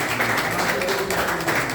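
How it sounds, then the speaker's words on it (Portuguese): Church congregation applauding at a worship service, a dense, steady wash of many hands clapping close up, with faint voices mixed underneath. "Palmas para Jesus, igreja."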